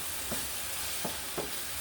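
Ground meat and garlic frying in a pan give a constant hissing sizzle, with a few soft scrapes of stirring breaking through.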